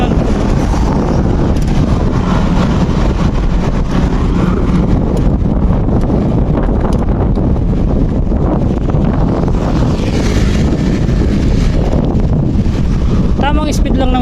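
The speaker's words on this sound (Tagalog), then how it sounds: "Malakas talaga ang hangin oh." Strong wind batters the microphone while riding on the road, a loud, constant roar and buffeting that fills the whole stretch with no pause.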